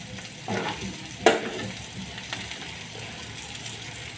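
Stuffed tender okra frying in oil without water, stirred in the pan: a steady low sizzle runs throughout, with a few louder scrapes and clinks of the spoon near the start, and no talking.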